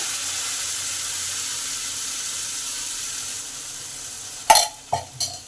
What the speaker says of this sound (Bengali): ডালটাকে এই মশলাটার সঙ্গে একটু ভালোভাবে কষে নিই